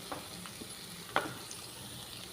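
Eggplant (vankaya) frying in a pan with masala, a soft steady sizzle punctuated by a few light clicks and stirring scrapes.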